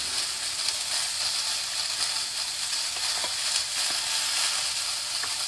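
Eggs, potatoes and mushrooms frying in butter, a steady close sizzle with light clicks and stirring, continuous and unbroken, no talking.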